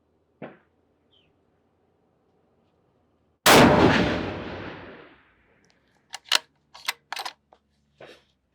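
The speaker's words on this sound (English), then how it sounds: "I'm dropping these rounds" A custom 7mm PRC rifle on a long action fires a single loud, close shot at an outdoor range, the blast rolling off over about a second and a half, preceded by a small click and followed by scattered light clicks and handling noises.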